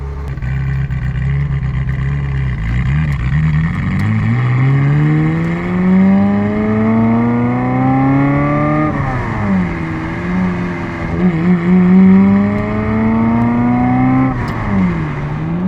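An 80k-mile Ferrari F355 accelerates on the road, its engine and exhaust rising steadily in pitch through the gears with a clear shift dip midway, loud and close from inside the cabin with no talking.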